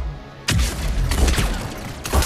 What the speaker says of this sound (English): This is the shotgun, right?